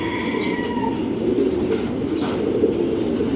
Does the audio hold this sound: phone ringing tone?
no